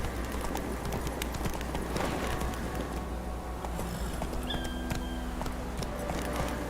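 The horse Roach's hooves galloping in The Witcher 3, heard as a steady rapid clip-clop under ambient game sound, moderately loud with no voices.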